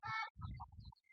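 Chickens being fed neem tree leaves make a few short clucks and soft calls, quiet and close, with brief rustling between them.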